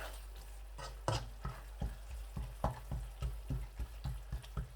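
Masala for aloo mutter gajar being stirred in a hot pan, a steady run of scraping strokes about twice a second over a low frying sizzle, close and moderately loud with no talking.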